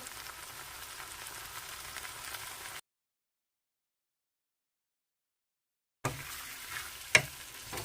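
Butter sizzling and frying in a pan for a chapati roast, a steady close hiss interrupted by a stretch of total silence, then resuming with a brief stirring clack.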